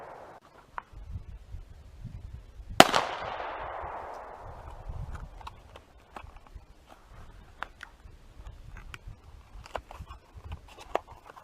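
A single sharp rifle shot rings out on a hunt at a 50-yard target, loud and echoing as it decays, followed by scattered faint clicks and rustles in an otherwise quiet outdoor setting.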